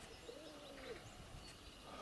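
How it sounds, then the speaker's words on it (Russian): Pigeons coo softly inside a dovecote, one clear rolling coo heard faintly over a low background hiss, with no talk. "Это моя голубятня."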